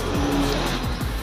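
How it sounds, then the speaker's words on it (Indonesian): A log truck overtakes on a straight road, a close engine roar with a swift passing sweep, loud and brief. "Sesama truk kayu mendahului bosku."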